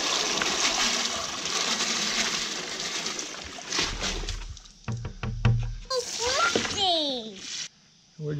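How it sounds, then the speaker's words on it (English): Wild autumn olive berries tumble into a container of fresh water, with a burst of splashing and sloshing after a stretch of running water and voices. "we're gonna take that and put it in here with a bunch of fresh, clean water"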